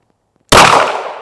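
A single sharp gunshot from a Ruger RXM rifle fired at a 100-yard target, a loud sudden crack after brief silence followed by a short decaying ring.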